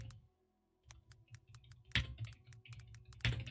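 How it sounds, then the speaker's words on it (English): Rapid, uneven clicks of a computer keyboard being typed on, close and fairly quiet, with a couple of heavier key thumps and no talking. "You guys can hear me typing."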